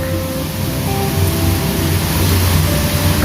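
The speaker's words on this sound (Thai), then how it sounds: "วันนี้ฝนตกนะ" Rain falls steadily outdoors, a loud, dense and unbroken hiss, with a faint tonal hum running underneath.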